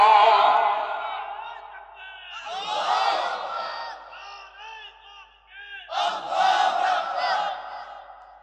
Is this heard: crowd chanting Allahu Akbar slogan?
yes